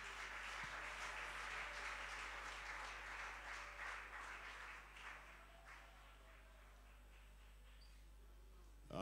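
Crowd applause at a prayer meeting in a hall, a steady wash of clapping that gradually thins and fades toward the end.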